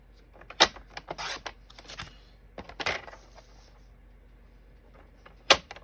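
Cardstock paper being cut for handmade cards, a few sharp slicing and snapping strokes with quiet shuffling and handling of sheets in between, close and fairly faint.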